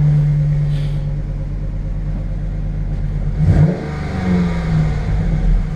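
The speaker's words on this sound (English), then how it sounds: "Oh, look at this one, a Ram 2500 turbo diesel Cummins." Ram 2500 turbo diesel Cummins pickup truck engine rumbling close by with a deep, steady idle, rising briefly in a revving surge midway before settling back to a heavy drone.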